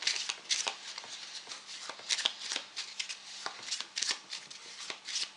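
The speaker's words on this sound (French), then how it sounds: "Tu vas maintenant mélanger le jeu rapidement." A deck of playing cards being shuffled quickly by hand, giving a steady run of crisp riffling flutters close to the mic with no talking.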